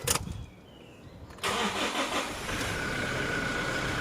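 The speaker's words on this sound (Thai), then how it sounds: "ไปีลองสตาร์ทเครื่องดูคุณผู้ชม" A 2018 Toyota Hilux Revo 2.4E pickup with automatic gearbox is started with a twist key: a brief cranking burst, then the engine catches and settles into a steady, close idle with no talking.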